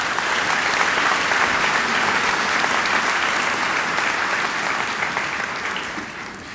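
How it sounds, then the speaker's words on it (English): Audience applause in a high school gymnasium during a graduation ceremony, a dense, sustained roar of many hands clapping that holds steady and tapers slightly at the end. "They deserve a huge round of applause."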